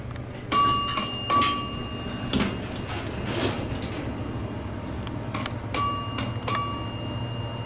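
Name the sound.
Dover elevator arrival chime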